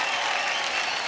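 Audience applause on the Superstar Singer Season 3 TV singing show after a performance: a loud, dense wash of clapping throughout, with no speech.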